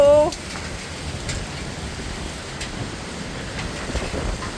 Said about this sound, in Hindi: बहुत तगड़ी बारिश आ रही है हमारे यहाँ पे।